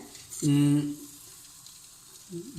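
Chicken for a peri peri burger cooks in a pan with a low, steady sizzle. A brief tonal hum rises above it early on.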